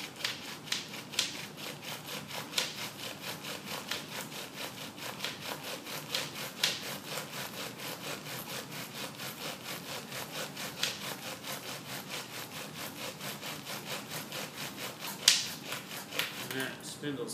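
A bow drill spindle spins on a wooden hearthboard in a fast, steady back-and-forth rubbing rhythm, the scratchy friction rising and falling with each stroke and staying fairly faint and close throughout.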